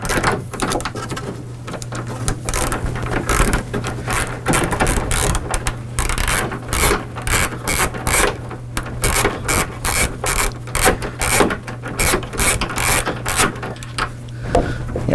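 Bolt being ratcheted down into a hole, a rapid, continuous clicking of the pawl that goes on throughout, fairly loud and close, with a steady low hum underneath.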